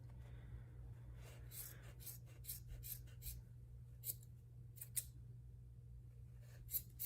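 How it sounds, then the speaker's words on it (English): Scissors snip through yarn while a pom-pom is trimmed, making a series of quiet, crisp cuts in irregular bursts over faint background hum. "So I cut one side, so now I need to cut the other."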